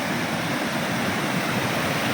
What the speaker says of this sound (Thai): เนี่ยน้ำตก คือสภาพน้ำตกที่ผมเดินข้ามมาเมื่อกี้นะฮะ